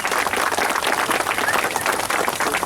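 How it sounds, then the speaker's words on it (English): Crowd applause for a family at a statue dedication at the Indianapolis Speedway, steady dense clapping from many people without a break. "give them a round of applause"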